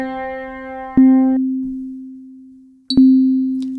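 A piano sample from a mobile tracker music app: a single low note sounds, then is struck again twice, each hit sharp and clean with a long, smoothly decaying tone, with no one talking.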